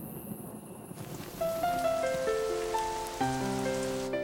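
Steady rain patters on a surface, at first alone and then under soft sustained musical tones that enter and build.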